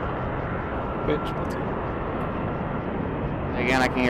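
A jet aircraft glitches out in a military simulation video game. It gives a steady, loud, broadband roar throughout, with a brief warbling swell near the end.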